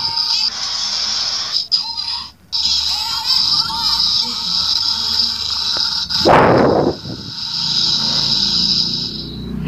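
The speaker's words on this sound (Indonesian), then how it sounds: "Dan itu tadi adalah suara untuk Rider Kick Kamen Rider Gen." A Kamen Rider Revice toy driver belt plays its electronic Rider Kick effect at close range: bright synthesized tones and voice-like sound, broken by short gaps, with a loud whooshing blast near the middle.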